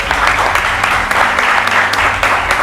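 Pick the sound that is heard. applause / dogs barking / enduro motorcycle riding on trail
applause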